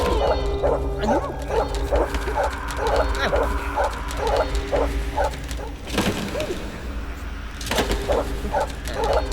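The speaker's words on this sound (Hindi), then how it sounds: "कौन है कुत्ता भौंक रहा है?" A dog barks at night in rapid repeated yaps, several short bursts in a regular rhythm at moderate distance, mixed with a little whimpering and some nearby talk.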